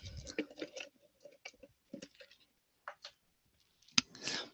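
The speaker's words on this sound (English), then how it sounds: "I'm taking a sip here of my drink" Quiet close-up mouth sounds of sipping a drink: a few small slurps, wet clicks and swallows separated by short pauses.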